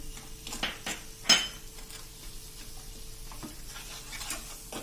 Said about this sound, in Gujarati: અને આ બધું એકદમ આપણે સરસ મિક્સ કરી લેશું 1 મિનિટ.